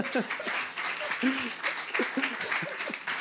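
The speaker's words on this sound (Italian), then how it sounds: "Applauso te lo faccio." Scattered applause closes a conference talk on continuous integration at a Python event, light clapping running under continuing speech and laughter from the presenters.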